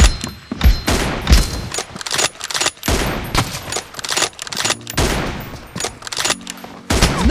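Rapid, dense bursts of gunfire from an M24 in a mobile shooter's team deathmatch room, loud and near, with shots cracking in quick clusters almost without pause and faint voices now and then.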